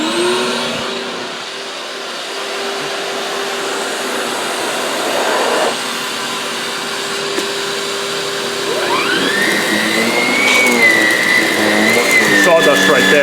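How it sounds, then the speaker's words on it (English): Canister vacuum cleaner starting up and running on a rug, a steady motor whine rising in pitch partway through and holding loud to the end, with a continuous background hum under it. "let's go and turn on the canister and then see how the rug comes out"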